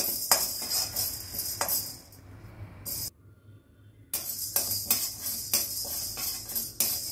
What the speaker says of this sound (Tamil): இந்த மிளகு நல்லா வறுத்துக்கலாம்.